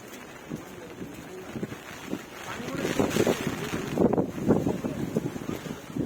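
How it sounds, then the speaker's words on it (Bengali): Strong wind beside the Buriganga River buffets the microphone in rumbling gusts that swell louder toward the end, with river water sloshing faintly beneath. "যে পরিমাণ বাতাস হিউজ পরিমাণ বাতাস"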